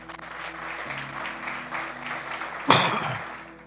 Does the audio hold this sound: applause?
yes